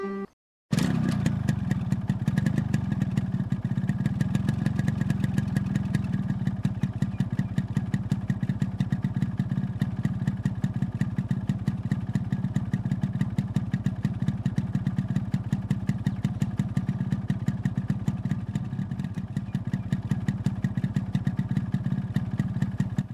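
A motorcycle engine runs steadily nearby for over twenty seconds, a continuous low rumble with a fine, rapid clatter and no talking.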